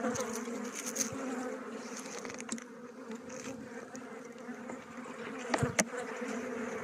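Honey bees from a weak colony buzz steadily at close range during a spring hive inspection, a continuous droning hum with a few brief clicks and knocks near the end.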